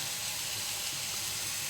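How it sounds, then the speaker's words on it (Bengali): Masala spices fry and sizzle in hot oil in a pan while chicken curry is being cooked, a steady close hiss that carries on without a break and with no voices over it. "এখন মশলাটা কষানো হচ্ছে।"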